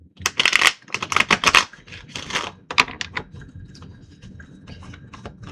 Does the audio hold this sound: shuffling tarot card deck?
yes